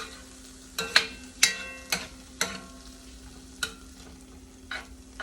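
Garlic cooking in a pan for a creamy Italian sausage and poblano pasta, with a steady low sizzle broken by several sharp clinks or stirring knocks spaced irregularly.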